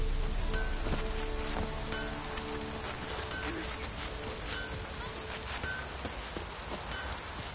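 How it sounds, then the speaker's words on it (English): Light drizzling rain in the video game Witcher 3, a steady soft patter and hiss filling the whole stretch, with faint scattered ambient game sounds mixed underneath. "Oh, it's drizzling."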